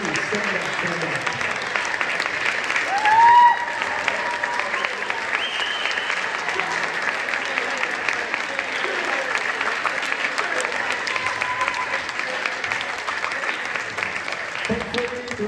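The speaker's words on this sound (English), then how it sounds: "can we please just give one more round of applause to all the percussionists" Sustained crowd applause fills a school percussion night concert, with many hands clapping steadily for the whole stretch, a brief louder swell early on and faint voices mixed in.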